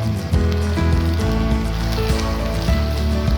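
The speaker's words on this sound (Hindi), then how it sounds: "यहाँ पे हमारी जो भिंडी है वो माशाल्लाह से बहुत अच्छे तरीके से फ्राई हो रही है" Okra (ladyfingers) frying in a pan of oil gives a steady, close sizzle with a dense crackle that runs evenly throughout and has no talking over it.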